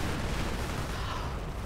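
Calliope rocket launcher firing in the World War II strategy game Company of Heroes, a dense, continuous rumbling roar of launches and blasts that stays loud and unbroken for under two seconds.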